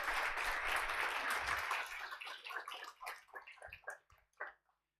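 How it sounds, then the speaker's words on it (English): An audience applauding after a conference talk, dense clapping that holds steady, then thins into scattered claps and dies away. "Another round of applause for her talk today."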